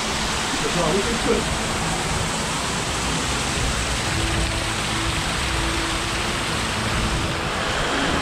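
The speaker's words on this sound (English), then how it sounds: "you get the amplified volume of the waterfall hitting the water to again give you that sense of the waterfall" Waterfall crashing into water inside a concrete cave, a dense, steady roar of broadband rushing noise filling the space throughout, loud and continuous.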